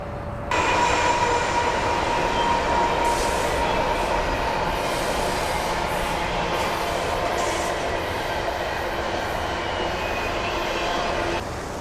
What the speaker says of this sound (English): choo-choo, train coming through